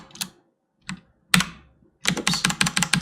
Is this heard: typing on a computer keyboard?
yes